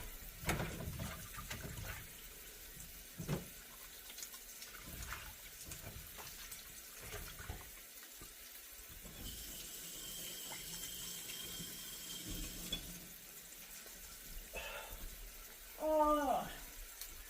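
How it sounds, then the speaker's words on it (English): A kitchen tap runs at a sink while hands are washed. The faint, intermittent water splashing is mixed with handling knocks and occasional voice sounds. "I'm going to wash my hands real quick."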